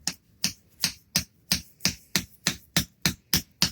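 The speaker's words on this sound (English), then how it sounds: "Okay, time to use the hammer" A hammer strikes honey rocket fuel in a steady series of about twelve sharp, close knocks, evenly spaced roughly every third of a second, each with a short ringing decay.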